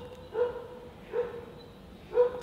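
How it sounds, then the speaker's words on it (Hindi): Dogs bark three times at spaced intervals, mid-distance and fairly clear, each a short harmonic woof over a quiet background. "और कुत्ते देखो सच में भौंकने भी लग गए।"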